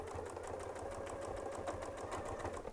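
A sewing machine quilting a design runs in a fast, steady stitching rhythm, its needle clicking in even repeated pulses over a low motor hum, quiet and close.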